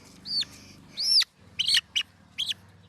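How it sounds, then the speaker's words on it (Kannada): A small, freshly caught chicken chick gives several sharp, high chirps in short bursts, close by, over a low steady background rumble at a family function in a Kannada village. "ಸೊ ಗಾಯ್ಸ್ ಫೈನಲಿ ಕೋಳಿ ಸಿಕ್ಕೈತ್ರಿ."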